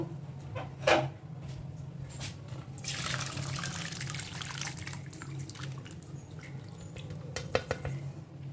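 Cooked guava juice is poured and strained for making jelly, giving a close liquid pour and trickle with a few clinks of a bowl or pot and dripping near the end.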